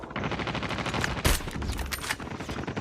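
Dense, continuous automatic gunfire from Call of Duty Mobile rattles loudly and close throughout, with one heavier blast near the middle.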